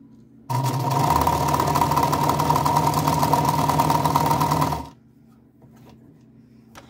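A Meister 173 sewing machine runs for about four seconds stitching a seam, a loud, steady mechanical whir with rapid needle clatter that starts abruptly and stops, followed by quiet handling.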